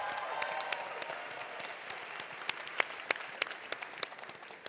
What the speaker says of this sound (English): Can we have a huge round of applause for Naomi?